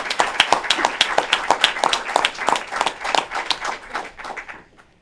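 Applause at a governor's press announcement, a small group clapping with distinct, uneven hand claps that fade out near the end.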